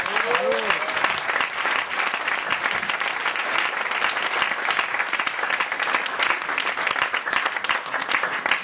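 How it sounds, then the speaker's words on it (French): Sustained audience applause welcoming Grand Corps Malade at a slam poetry event, a thick, even roar of many people clapping for over eight seconds, with a brief voice at the start. "je vais vous demander d'accueillir sous un tonnerre d'applaudissements"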